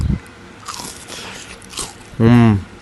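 Someone bites into a crunchy fried chicken nugget coated in sambal, giving a close crunch and chewing, followed by a short voiced sound.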